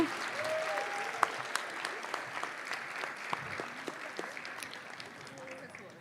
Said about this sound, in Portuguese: Vamos aplaudir todos os vencedores na categoria de desenho.